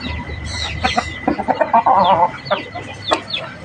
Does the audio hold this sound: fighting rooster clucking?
yes